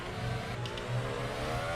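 Formula 1 car in the F1 2021 video game accelerating out of a corner at the Belgian Grand Prix with DRS opening, a steady high engine whine with pulsing low rumble and no voices.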